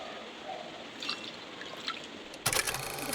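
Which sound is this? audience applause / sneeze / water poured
water poured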